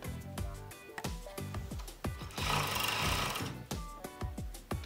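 A domestic sewing machine stitches a child's coat in quick, rhythmic bursts of needle clatter, pausing and restarting, with a short stretch of brighter fabric rustle in the middle.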